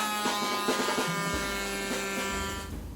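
A router bit cutting a test pass for a kick hoop inlay, a loud steady electric whine with dense harmonics that holds for the full three seconds, its low hum shifting slightly as the cut proceeds.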